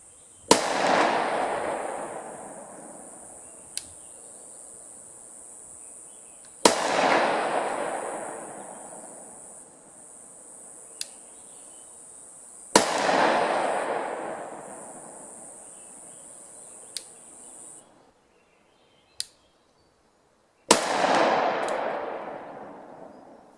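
Loud sharp gunshots from a 200-grain .45 Auto +P pistol fired over a chronograph outdoors, four big reports spaced several seconds apart with long echoing decays, plus a few smaller clicks and pops between them.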